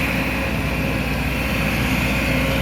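The direct-injection four-cylinder engine of a Sumitomo SH210F6 excavator runs in a constant, dense drone with a low throb and a high whine, close and loud, with no variation and no talking.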